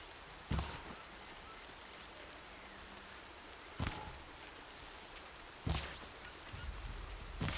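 Steady rain hiss in Horizon Zero Dawn, a continuous broadband wash that stays level throughout, broken by three sharp, brief transient bursts spread across the stretch.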